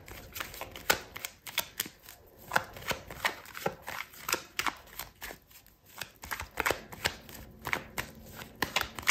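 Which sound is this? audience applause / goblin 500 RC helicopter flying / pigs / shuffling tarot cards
shuffling tarot cards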